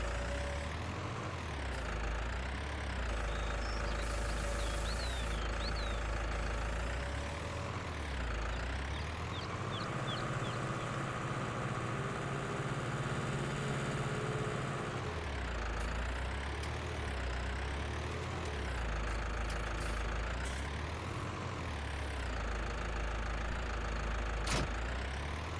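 Tractor engine from the Alpine farming pack idling in Farming Simulator 19, a steady low diesel rumble that swells and eases in slow repeating cycles, close and continuous throughout.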